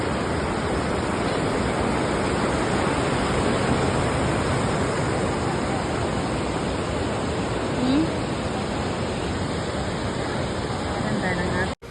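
Fast-flowing river water, a loud continuous rushing roar close by that stays steady throughout before cutting off abruptly at the end.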